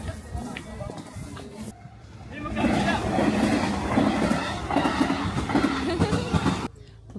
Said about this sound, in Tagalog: May dumadaan na train.